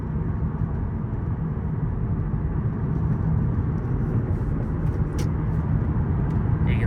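Steady low drone of an Infiniti G37 cruising around 2,000 RPM in manual mode while shifting from fifth up to sixth gear, a smooth engine and road rumble heard from inside the cabin with no clear shift event and no talk.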